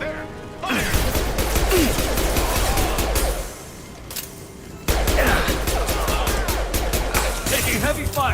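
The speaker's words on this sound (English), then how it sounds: "Taking heavy fire!" Gunfire from the video game Mass Effect 2 rattles in dense, rapid bursts, loud and close, with a brief lull midway before another sustained volley, and a voice calls out over the shooting.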